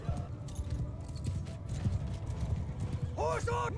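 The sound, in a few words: cavalry horses charging in a video game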